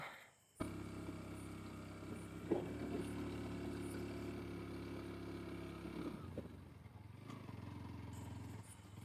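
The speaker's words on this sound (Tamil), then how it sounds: "ஒரு மாதிரி உருன்ட்டு சத்தத்தோடையே வந்துக்கிட்டு இருக்குது" An overloaded motorcycle engine labors steadily while climbing a steep hill road, a low droning rumble with a brief clunk midway, then the tone shifts and lowers near the end.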